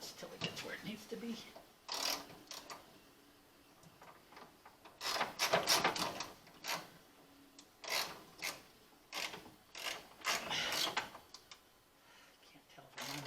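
A ratchet turns a bolt on a Chevrolet Turbo 350 transmission in uneven bursts of close, quiet clicking and rasping, with pauses between strokes and some faint scraping.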